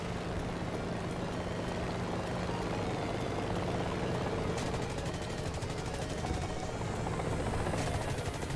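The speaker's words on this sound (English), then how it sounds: "How hard can it be to hit that chopper?" Helicopter in the video game War Thunder, a steady close rotor chop and engine drone throughout, with bursts of machine-gun fire rattling in the latter half.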